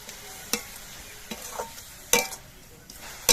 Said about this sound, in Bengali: এবার এই সর্ষে বাটাটা এর মধ্যে দিয়ে দেবো